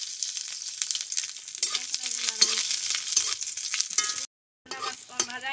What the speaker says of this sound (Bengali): এখন আমি রসুন আর লঙ্কা দিয়ে নেবো